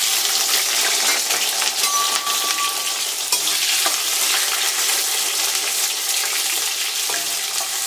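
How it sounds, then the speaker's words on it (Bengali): Ridge gourd pieces fry in oil in a wok, giving a steady, dense sizzle that runs unbroken throughout, with a few faint clinks and stirring sounds close by. "এবার আমি ঝিঙেটাকে একটু হালকা করে ভেজে তুলে নেব"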